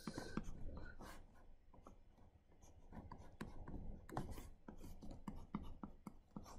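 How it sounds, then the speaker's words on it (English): A pen scratches quickly across paper while a transistor amplifier schematic is sketched by hand, giving quiet, close, irregular strokes with short gaps between them. "So let me first draw the schematic quickly."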